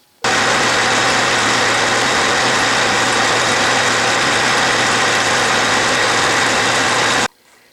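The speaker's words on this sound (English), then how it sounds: "And now I'm turning the end down to 1/4, 1/2 inch back." A metal lathe turns down the end of a part for the movable jaw of a drill press vise. It gives off a loud, continuous machining whir that starts abruptly, holds steady for about seven seconds, then cuts off.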